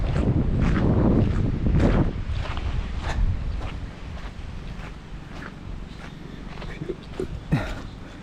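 Wind buffets the microphone in gusty rumbles, strongest at first and then easing, with outdoor movement and faint sounds in the background.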